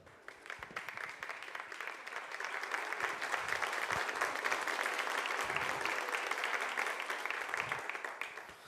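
Church congregation applauding to praise the Lord, sustained crowd clapping that swells in the middle and holds steady for several seconds, moderately loud and without talk.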